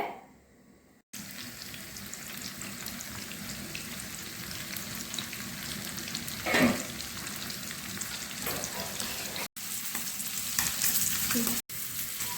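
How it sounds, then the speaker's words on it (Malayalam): Steady, broadband sizzle of sardines frying in hot coconut oil, continuous and close, with brief gaps and a short louder flare midway. "ഞാനിനി ആ സമയം കൊണ്ട് മീനും കൂടെ വറുത്തെടുക്കട്ടെ"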